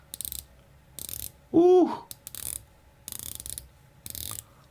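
Wise Hitman Diver watch's unidirectional 120-click bezel turned in several short bursts of rapid ratcheting clicks, close and crisp, with a brief exclaimed voice in the middle.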